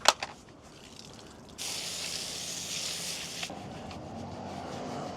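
Car soap sprays from a bottle onto a vehicle during detailing, making a steady, close hissing burst of about two seconds, with a fainter hiss before and after.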